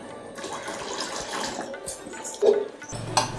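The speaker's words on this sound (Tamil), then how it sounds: "இப்போ இன்னும் கொஞ்சம் தண்ணி ஊற்றிடலாம்." Water poured into a bowl of ground peanut chutney, a soft splashing trickle with a brief gurgling burst near the end, close by in a quiet kitchen.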